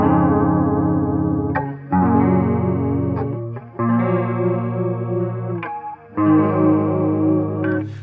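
Electric guitar through a chorus effect on the neck pickup with distortion off, playing clean sustained chords from a song, with four strummed chord changes ringing out loud and alone.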